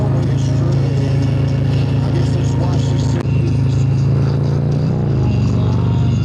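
A 131 Harley-Davidson Road Glide Special rumbles steadily at riding speed, a loud continuous engine drone with wind, captured from the rider's position, and the pitch shifts briefly near the end.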